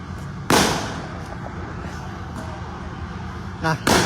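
Firecrackers thrown by protesters under the Slipi flyover go off in sharp, loud bangs, one early and another near the end, above a constant outdoor rumble of crowd noise and voices.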